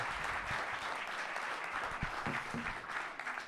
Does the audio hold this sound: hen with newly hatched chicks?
no